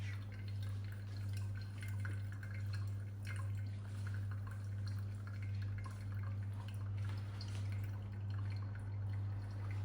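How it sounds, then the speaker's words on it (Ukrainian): Brewed Indonesian Java coffee drips steadily from a pour-over brewer into the vessel below, a soft continuous trickle heard over a loud, steady low hum. "Зараз кава дотікає"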